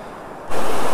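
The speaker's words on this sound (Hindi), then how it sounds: "यहाँ पे कितने फोर्स में बह रहा है पानी" Forceful rush of a deep river's water near the Chandika Ghat temple in Pithoragarh, a loud broad roar that jumps suddenly in level halfway through and stays steady, with no voices.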